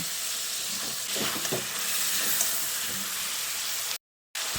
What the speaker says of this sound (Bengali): টমেটোর পেস্টটা দিয়ে চিকেনের সঙ্গে আরও কিছুক্ষণ কষিয়ে নিয়েছি